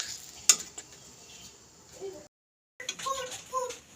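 Mango and jaggery pickle cooking in a pan, a soft bubbling sizzle with a few utensil clinks and scrapes, near and quiet, broken by a brief silent gap.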